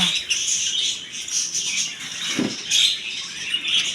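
Small caged birds, some with chicks, at a bird shop chirp and squawk in quick, high twittering bursts, close by, with soft rustling and fluttering in between.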